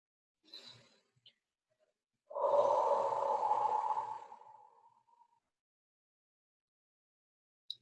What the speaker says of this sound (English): Gathering it up with your breath on your inhale, and release it on your exhale.